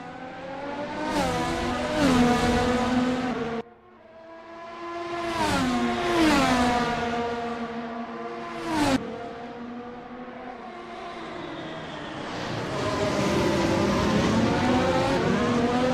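Formula One cars race around the Nürburgring, their loud, high engine notes rising and falling through repeated gear shifts as they scream past one after another, with a brief lull before the next car roars by.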